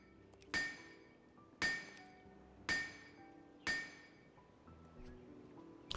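A hand hammer head being struck in the video game My Little Blacksmith Shop, four evenly spaced bright metallic clangs that ring out and decay, with a fifth strike just beginning at the end and no voices.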